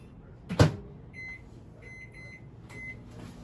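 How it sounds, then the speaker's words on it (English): Microwave oven loaded with baked apples one at a time: a loud thump of the door closing near the start, then a few short electronic keypad beeps as it is set, with no talk. "These just pop right into the microwave here,"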